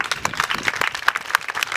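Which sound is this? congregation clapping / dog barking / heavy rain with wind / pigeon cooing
congregation clapping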